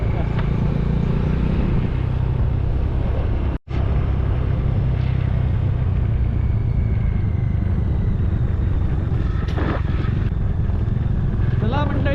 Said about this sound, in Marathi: रायडर असं एकदम मध्ये गाडी चालवतोय बघा